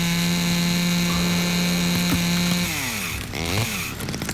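A chainsaw cutting a trapdoor into a floor in the video game Black Mirror III, a loud droning motor whine that holds steady, then bogs and shifts pitch as the blade bites in, with no talk.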